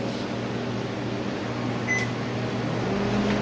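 Steady hum of a microwave oven running as it warms food, a constant motor drone with a faint high beep-like tone near the middle, no voices.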